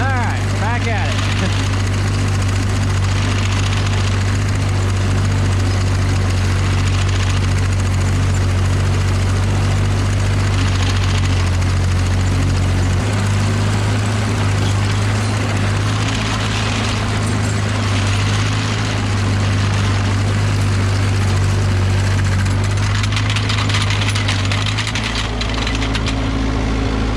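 A No.5 sickle mower's engine runs loud and steady in second gear, a constant low droning rumble that fills the whole stretch, with a voice speaking briefly over it.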